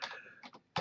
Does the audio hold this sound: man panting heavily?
no